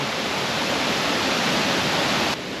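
A waterfall in Laos roars as a dense, steady wash of broadband noise, loud and close with no voices, easing slightly just before the end.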